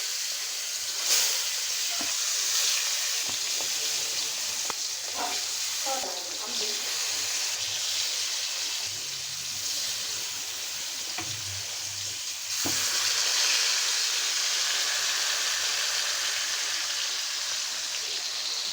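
Rohu fish, rubbed with turmeric and salt, sizzles and fries in a salted kadai, a steady close hiss with small crackles and spits throughout, no voices.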